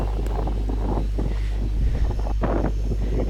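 Strong wind roars steadily across the microphone on Marunthuvazh Malai hill near Kanyakumari, a heavy buffeting rumble with gusts, loud and close with no talking.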